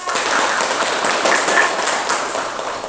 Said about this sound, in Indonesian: tepuk tangan untuk Yela.